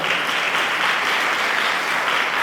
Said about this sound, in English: And then also clap for me.